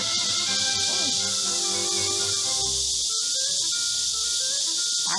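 A dense, steady high-pitched buzz of cicadas, including loud black cicadas (mal-maemi) and Korean cicadas (cham-maemi), droning continuously through the whole clip, with faint background rustling beneath.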